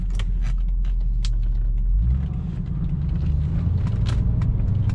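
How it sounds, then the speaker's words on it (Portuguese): Mercedes-Benz 500 SEL V8 idling smoothly after start-up, a low, steady, quiet hum with a slight shift in pitch partway through, no voices. "deu a partida, aquele silêncio, aquele V8"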